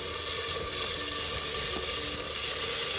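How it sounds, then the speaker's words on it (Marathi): Chopped onion frying in hot oil, a steady loud broadband sizzle that holds evenly throughout with no pauses and no voices. "तर त्यामध्ये आपण हा कापलेला कांदा ॲड करू।"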